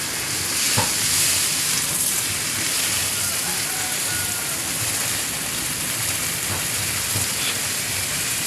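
Steady hiss of water spraying and splashing onto plants and dry, parched soil at the roots, with a few faint taps and clicks, continuous and fairly close.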